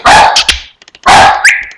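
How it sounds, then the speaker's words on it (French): Several dogs bark loudly up close in two clustered bursts, with a few quick yips in the short gap between them and no talking. "Ça c'est mes chiens."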